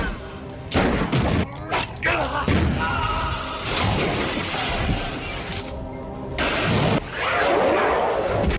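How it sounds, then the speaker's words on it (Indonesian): Gunshots and explosions in a gangster film action scene come as repeated heavy bursts, thuds and shattering crashes, loud and close, with talking over parts of it. "Beberapa kali ditembak dan dibakar, Ryuji masih hidup"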